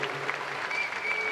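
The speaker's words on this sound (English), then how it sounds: "That's not the kind of applause that she wanted to be getting" A tennis crowd at a United Cup match gives muted, soft applause, a faint even patter of clapping with a tone sounding in the background.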